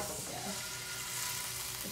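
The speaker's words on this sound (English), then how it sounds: "That is boiling right there." Pot of water at a rolling boil while kale parmesan pasta is cooked, a close, steady, dense bubbling and hissing that fills the moment without any talk.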